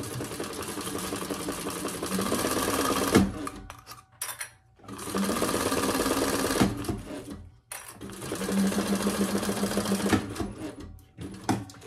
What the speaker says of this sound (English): we're just gonna stitch across the top